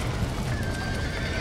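Horses whinny amid steady clip-clopping hooves in the video game Red Dead Redemption, set against a dense, continuous background of noise.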